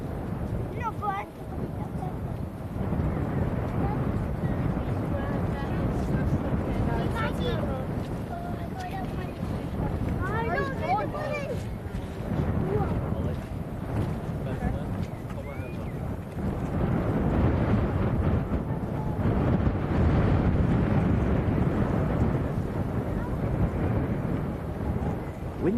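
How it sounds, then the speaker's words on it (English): Gusty wind at Manchester Airport buffeting the microphone in a steady low roar that swells and eases, with talk heard faintly beneath it. "Wind's actually picking up as well."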